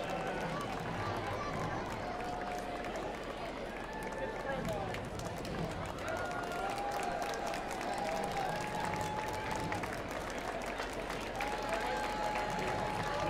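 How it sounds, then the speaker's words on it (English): A crowd of students, alumni and parents along a university homecoming parade route applauds as vehicles pass, a long continuous roar of clapping and cheering beneath ongoing talk, with voices and whistles rising above the outdoor din. "A lot of applause."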